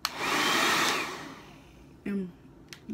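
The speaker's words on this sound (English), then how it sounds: "Then I'm gonna take the blow dryer" A blow dryer drying hair after leave-in conditioner is applied: a loud, close whooshing roar for about a second that fades down, then brief dryer bursts and handling noises.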